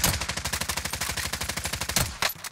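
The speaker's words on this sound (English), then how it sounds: "We're still trying to take the shot, Vic. We're still taking the shot" Rapid, evenly spaced gunfire bursts from a Warzone video game match, loud and continuous for about two seconds, then a couple of heavier final shots, with no voices.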